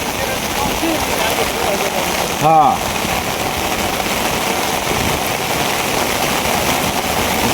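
Heavy rain pouring outdoors during a fishing outing with current nets, a dense steady hiss of falling water throughout, with a brief voice heard partway.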